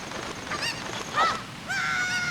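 Honking, clucking fowl calls from a chicken in The Legend of Zelda: Ocarina of Time, a few short squawks followed by a longer sustained cry, fairly close over a soft background hum.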